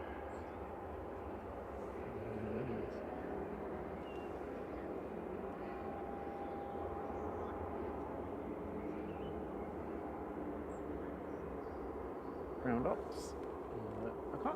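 A Loganair ATR 42 turboprop lining up at Manchester Airport gives off a low, continuous propeller drone at a moderate distance, with a brief louder burst near the end.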